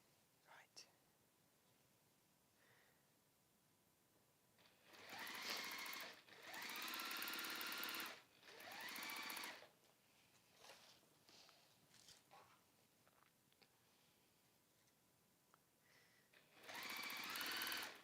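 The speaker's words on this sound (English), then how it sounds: "We're just sewing those long edges together." A sewing machine stitches the long edges of a fabric crossbody bag in several bursts of rapid whirring, close and fairly loud, with soft whispered talk and handling noises between runs.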